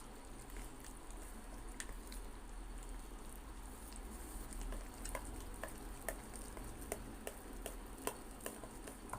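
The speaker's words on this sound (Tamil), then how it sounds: "நல்லா கட்டி இல்லாமல் கிளறி விட்டுக்கோங்க" A batter of wheat flour and jaggery for sweet paniyaram is stirred in a bowl, giving soft repeated clicks and wet scraping over a faint steady hum, quiet and close.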